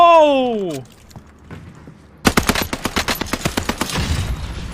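An AS-44 rifle fired in Warzone Pacific, a rapid burst of about fifteen loud, sharp cracks in quick even rhythm, following a falling whistle-like tone and a short pause.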